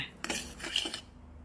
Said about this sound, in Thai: แล้วเราก็คนให้เข้ากันค่ะ